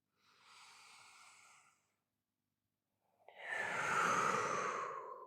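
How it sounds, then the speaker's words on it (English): A deep exhale during a vinyasa yoga wide-leg forward fold, close and breathy, following a softer inhale and a pause, the long out-breath swelling then tapering off with no talk. "Deep breath out."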